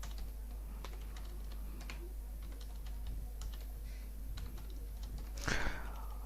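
Fingers type salary figures into a spreadsheet on a computer keyboard, giving quiet, irregular key taps close by, with a slightly louder burst of clicking near the end over a faint steady hum.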